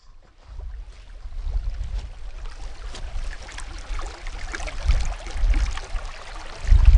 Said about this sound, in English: The sound of running water